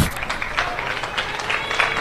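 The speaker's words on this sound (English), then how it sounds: "She's getting a healthy clap off, which she absolutely deserves." Spectators at a women's football cup match between Belconnen United and Sydney Uni clap steadily as a player is substituted off, a dense, even patter of applause filling the whole moment.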